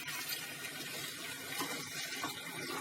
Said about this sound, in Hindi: गाजर अभी कच्ची है, तो थोड़ा सा पानी डाल देते हैं